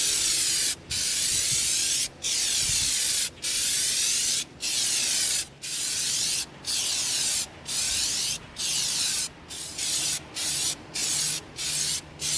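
Plastidip coating sprays from an aerosol can onto an EVA foam NN14 prop in repeated close hissing bursts, each lasting about a second with brief gaps between, getting shorter and quicker toward the end.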